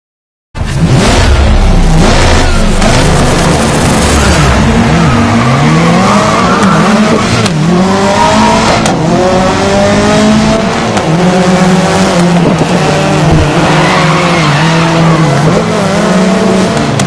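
Race cars launch off the grid at Silverstone in the racing video game GRID, a loud continuous roar of many engines revving and rising through gears, with tyre squeal and engine pitch sweeps throughout and no voices.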